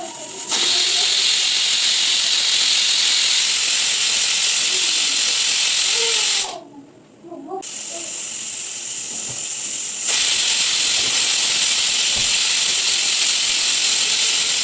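A loud, steady high hiss of steam jetting from a pressure cooker whistle while cooking pulao, briefly cut off, then rushing back even louder and continuing without a break.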